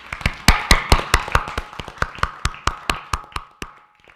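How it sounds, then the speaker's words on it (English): Audience applause at a school board meeting, a run of sharp, fairly sparse claps from a modest crowd that thins out and fades over about four seconds. "I see some applause, so I will appropriately pause for applause."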